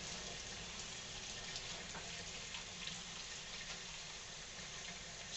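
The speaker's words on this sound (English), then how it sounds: "I'll rinse this turkey breast off in the sink." Tap water runs steadily into a kitchen sink while a frozen turkey breast, still coated in ice, is rinsed under it, a constant close broadband wash with no talk.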